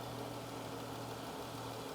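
A standard V6 car engine with 91,000 miles idles steadily at close range, a continuous low hum with no voices over it.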